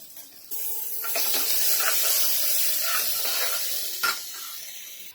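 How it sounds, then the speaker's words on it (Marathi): Onions for masala dal khichdi hit a hot pan and set off a sudden loud hissing sizzle that holds steady, close up, with a brief clatter near the end. "कांदा टाकून चांगला लाल करून घ्यायचा आहे"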